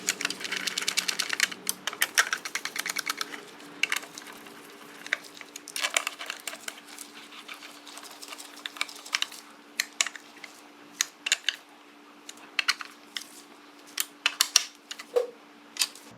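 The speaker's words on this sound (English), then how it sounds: "I like to install these by hand with a T-handle." Sprocket bolts being threaded in by hand with a T-handle on a chain-and-sprocket setup, heard as irregular light metallic clicks and ratcheting taps in quick bursts, close up over a faint steady hum, with no talking.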